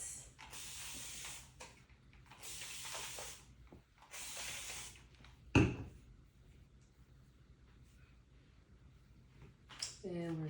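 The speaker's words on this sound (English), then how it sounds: "I'm gonna go ahead and spritz this." Three quick spritzes from a spray bottle misting hair sound in a row, each a short bright hiss, followed by a sharp knock and quieter handling sounds close by.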